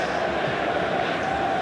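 A stadium crowd at a Melbourne Victory versus Adelaide football match gives off a steady, dense roar of many voices, a continuous broad wash with no distinct peaks.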